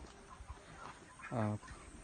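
Chickens in a coop packed with about 700 birds let out a soft, quiet murmur of clucks, and one louder squawk stands out near the middle.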